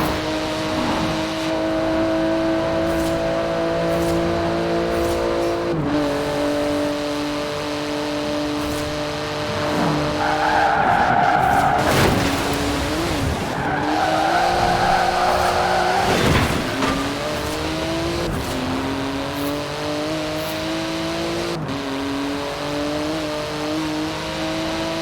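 Racing cars in Forza Horizon 4 roar steadily with rising and falling engine pitch, tires squealing through skids in the middle stretch. It is loud and continuous throughout, with no talk.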